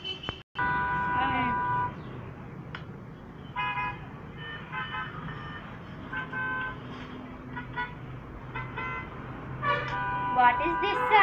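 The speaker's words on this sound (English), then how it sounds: "This is a car horn." Car horns honk repeatedly in short and longer blasts amid busy street traffic noise, some close and some farther off.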